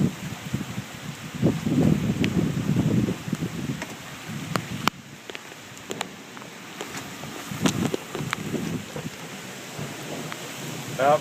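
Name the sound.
heavy rain and thunder during tornado storm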